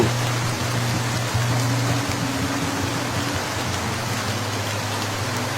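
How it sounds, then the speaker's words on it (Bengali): Steady rain pours down outdoors in a village while someone chops firewood, a loud, even wash of drops with a low hum running underneath. No one speaks. "এই বৃষ্টিটার জন্যই মনে হয় আমার শরীরটা আজ একটু শান্তি পেল।"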